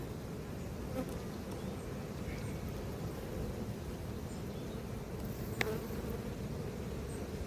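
Honey bee colony in an apiary hive fed with sugar syrup, a dense steady buzz of many bees close by, continuous and fairly quiet, with one brief faint click near the end.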